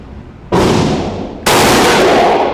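Two loud, close rifle shots from a Springfield Armory Hellion 5.56 bullpup, about a second apart, each a sharp blast followed by a long ringing decay outdoors.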